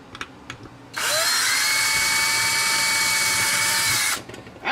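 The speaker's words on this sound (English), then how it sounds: "I still have this one with nickel cadmium, all those like cheap Chinese knockoffs. But I don't know. The drill still works." A nickel-cadmium cordless power drill, a cheap knockoff model, whirs steadily at full speed for about three seconds, loud and close, with a brief ramp-up at the start and an abrupt stop.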